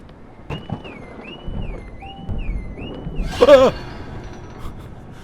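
A warbling electronic alarm in the horror flight game Nightmare Flight wavers up and down in a steady looping tone, followed by a short burst of clattering and a brief voice over quieter background noise.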